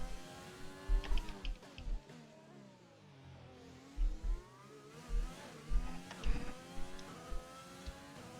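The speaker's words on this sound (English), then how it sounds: "Just seen a nose of a car coming around the corner." A racing car engine in a driving video game comes and goes in rising and falling revving surges, with a few pulses of engine noise separated by quieter gaps. Moderately distant, with no talk.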